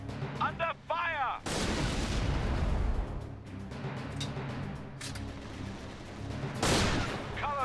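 Battle in the Resistance: Retribution video game, heavy artillery blasts and rapid gunfire roaring close and loud, with a sustained rumbling barrage, sharp shots and a second big boom near the end, after a brief opening of chirpy game effects.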